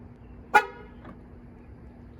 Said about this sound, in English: how loud the vehicle is when it locks itself